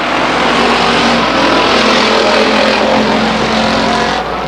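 Race cars roaring around the oval at Stockton 99 Speedway, a dense, loud, unbroken wall of engine noise as the pack laps close by.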